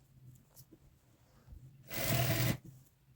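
Sewing machine stitching across lehenga fabric, a single loud continuous burst of about half a second, close by, after quiet handling noises.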